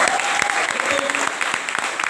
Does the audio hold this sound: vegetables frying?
no